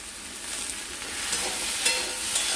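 Small-fish curry with potato, pointed gourd, raw banana and slit green chillies sizzling steadily in a pan while being stirred, a close, continuous hiss with a couple of faint scrapes near the end.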